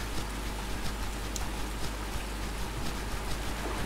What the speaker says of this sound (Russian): у нас такая сложность просто из-за того, что дождь идет